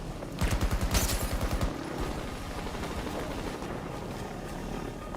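Bursts of rapid automatic turret fire in Battlefield 2042 Hazard Zone, loud for the first two seconds, then a dense lower rumble of combat noise that carries on under the rest.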